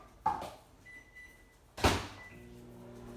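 A microwave oven door shuts with a single sharp thunk partway through, after an earlier softer click, followed by a faint steady hum while the oven runs, with nobody talking.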